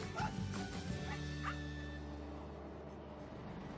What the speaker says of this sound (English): First thing I saw when I get on the barge is a dog